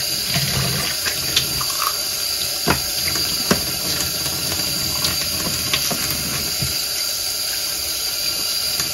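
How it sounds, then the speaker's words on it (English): Tap water runs steadily into a sink while dyed cotton fabric is rinsed, a continuous hiss with occasional soft splashes and knocks, no talking. "I'm going to keep rinsing until the water runs clear."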